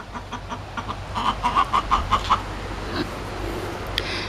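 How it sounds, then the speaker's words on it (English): A chicken in a backyard organic raised-bed garden clucks in a quick run of about six short, fairly close calls, with a couple of fainter clucks afterward over quiet outdoor background. "You're a noisy chicken."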